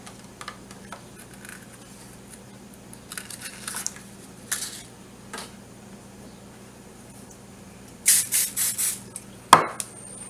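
A metal muffin tin is grabbed in a home kitchen, giving scattered soft knocks and rustles followed by a quick cluster of bright metallic rattles and one sharp clank near the end.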